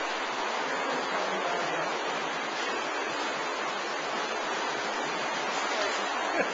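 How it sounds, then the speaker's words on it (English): Water rushing through an active sewer beneath Paris, driven by a flushing boat, a continuous broadband roar that stays steady and close throughout. "This is the flushing boat."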